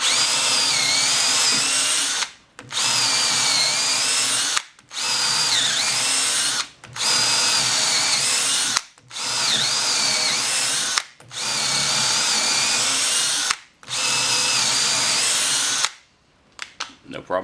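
A Hart 20V 1/2 inch cordless drill pre-drills holes in six long, loud, whining runs with short pauses between them, steady and close.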